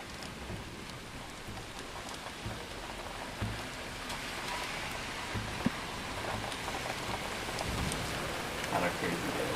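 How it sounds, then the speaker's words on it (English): Steady rain falls on surfaces as a rainstorm, a dense, even hiss with scattered drop impacts and a faint low rumble, heard close and continuous with no talk. "we're ready to cool off a little bit with a rainstorm"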